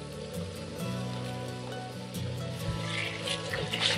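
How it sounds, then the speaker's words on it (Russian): Water pours steadily into a container of washed rice for campfire plov, a continuous gurgling flow with a low hum beneath, brightening into splashier trickling toward the end. "И заливаем водой."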